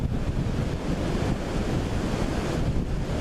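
Strong wind blowing at an outdoor river ferry site in Smith County, Tennessee, a steady roaring rush buffeting the microphone, loud and continuous with no voices.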